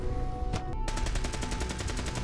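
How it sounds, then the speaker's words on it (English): Gunfire in the video game Fallout 4 comes as a rapid automatic burst, close and loud, with shots hammering in a fast even rhythm after a couple of isolated cracks at the start. "Okay, gunshots, that's exciting."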